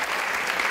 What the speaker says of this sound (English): you get them to applaud.